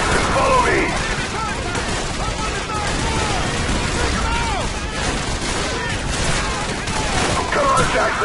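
Covering gunfire in Call of Duty Modern Warfare during a swamp battle at night: dense, continuous rifle and machine-gun fire forming a steady wall of noise, with soldiers shouting orders over it.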